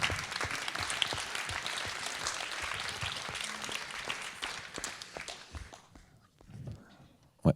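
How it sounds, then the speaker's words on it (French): Audience at an awards ceremony applauds a prize winner, sustained clapping that thins and fades out, with murmured voices and footsteps as he comes up. "On peut l'applaudir très fort"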